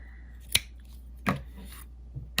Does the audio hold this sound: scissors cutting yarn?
yes